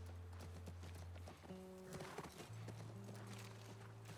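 Rhythmic clip-clop of a horse's hooves at a walking pace near a ranch in the video game The Last of Us Part II, close by, with occasional tonal game sounds and a brief snort in the background.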